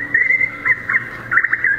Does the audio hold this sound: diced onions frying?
no